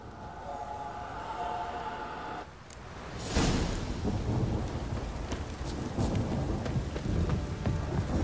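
Heavy rain hisses steadily in The Witcher 3: Wild Hunt, then a loud crack of thunder breaks in and rolls on beneath the continuing downpour.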